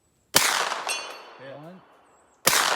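Two loud, sharp gunshots from a Cobalt Kinetics pistol caliber carbine fired at an outdoor range, about two seconds apart, each with a ringing tail, and a short spoken word between them.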